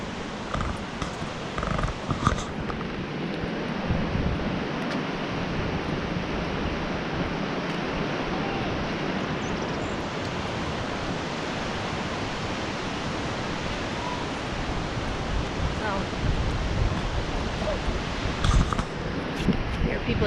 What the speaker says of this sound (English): So the river's running very quick through there.